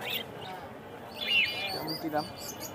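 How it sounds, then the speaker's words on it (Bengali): Cockatiels, including albino, fallow and lutino birds, chirp in short bright calls and whistles at a busy pigeon market, with faint crowd murmur and speech underneath. "এগুলো ককাটেলের অ্যালবিনো ফ্যালো আছে, লুটিনো আছে"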